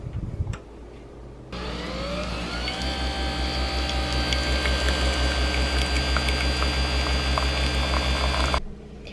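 A coffee machine brews into a cup, starting with a click and then a continuous loud whirring, gurgling hum with steady pulsing. It runs for several seconds and cuts off sharply at the end.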